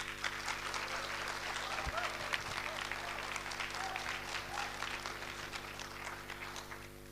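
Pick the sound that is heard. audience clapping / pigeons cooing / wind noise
audience clapping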